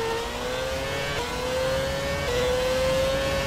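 A high-pitched Formula 1 engine in the game F1 2017 whines steadily, its pitch climbing gradually through gear changes, with a constant mechanical roar and no voices.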